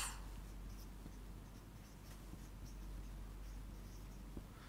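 Equations are written on a board during a mathematics lecture, with faint, quiet scratching and tapping strokes in uneven bursts against a soft room hum.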